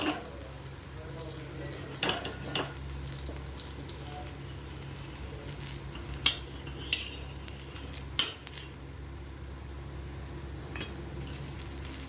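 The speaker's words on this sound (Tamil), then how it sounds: "தக்காளி தொக்கு தோசை ஊற்றிட்டுருக்காங்க." Tomato thokku dosa cooking on a pan gives a soft steady sizzle with occasional clinks and scrapes of a utensil, close by and moderately quiet.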